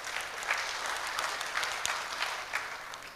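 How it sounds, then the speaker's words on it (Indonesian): An audience at a village government information session applauds for Pak Jokowi, a moderate, steady patter of many hands with a few sharper claps standing out. "tepuk tangan untuk Pak Jokowi"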